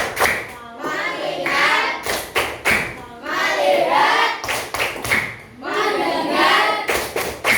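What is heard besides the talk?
class doing rhythmic focus clapping (tepuk fokus)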